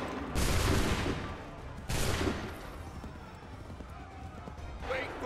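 Two loud, dense bursts of gunfire crackle out in quick succession, each one a volley of many muskets fired at once, in the video game Assassin's Creed III. A fainter battle din follows, and a voice speaks briefly.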